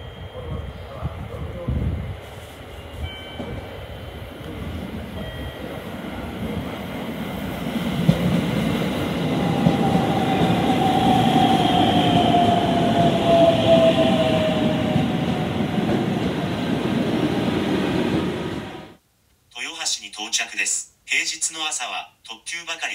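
A JR Tokaido Line train heading for Toyohashi rumbles steadily in the foreground with a rising whine, and a person talks over it. Near the end the running sound gives way to something quieter and choppy.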